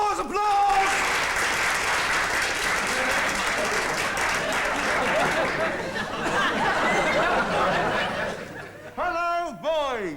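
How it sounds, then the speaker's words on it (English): Schoolboys in a school hall applaud in a sustained, dense wash of clapping lasting several seconds, with scattered chuckles and chatter mixed in, before the noise dies down and a voice begins speaking. "Applause, applause!"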